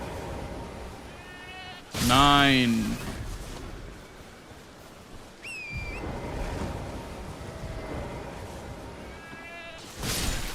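Synthetic sheep bleats in Elden Ring ring out over a steady watery background, one loud bleat followed later by shorter calls, with a voice speaking briefly.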